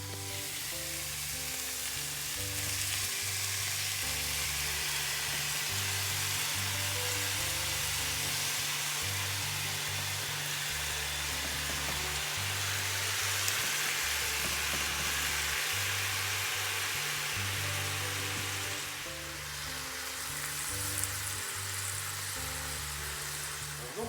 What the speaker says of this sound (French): On laisse ça aller un bout de temps, là, jusqu'à temps que ça prenne de la couleur, que ça rôtisse, que ça dore.